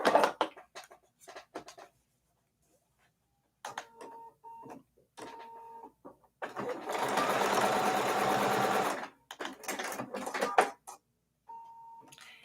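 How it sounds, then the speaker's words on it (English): A home sewing machine stitches fabric pieces together for a strawberry foundation paper piecing block, whirring in short bursts and one longer steady run, with brief pauses and soft talk between. "we are going to sew on that line between B2 and B3"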